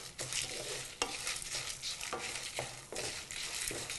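A spoon stirs coriander seeds roasting in a pan. Rhythmic scraping strokes recur about every half second over a soft, low sizzle, close and fairly quiet, with no voices.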